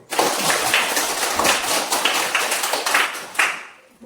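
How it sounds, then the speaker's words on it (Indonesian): Classroom applause for the third presentation group: a steady burst of many hands clapping for about four seconds, fading out at the end. "kita berikan aplaus untuk kelompok 3 dulu"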